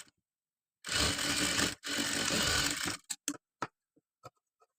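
A sewing machine runs a double stitch on a designer long gown in two loud whirring bursts of about a second each, followed by a few short clicks and taps as the fabric is adjusted.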